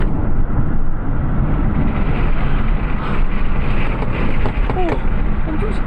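Loud, steady roar of wind buffeting through the open passenger window of a Hyundai ST1 electric truck at 80 km/h, with broadband rumble throughout and no speech.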